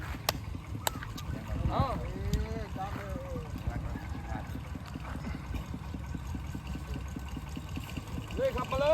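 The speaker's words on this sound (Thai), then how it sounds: "ให้รถไถผ่านนะครับ" A farm tractor passes along a road where a young elephant is being walked, its engine chugging in a steady, close, low putter throughout, with voices and a few high squeals over it.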